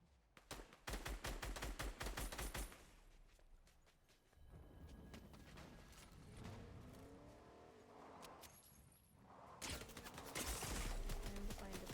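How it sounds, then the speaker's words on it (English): Bursts of rapid gunfire in the Fortnite video game, a fast rattle of shots at the start and again near the end, with quieter game ambience and some movement noise in between. "I hear shooting"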